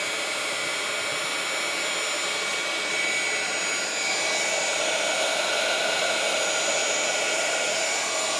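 A heat gun blows a steady, close, whooshing hiss of air while drying paint on a graphic Easter egg, continuous and unbroken with no talking.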